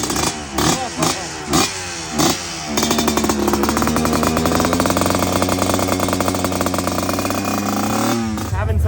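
An old-school two-stroke dirt bike engine is blipped a few times in short revving bursts, then settles into a loud, sustained buzzing rev close by, ringing raspy and steady before cutting off near the end.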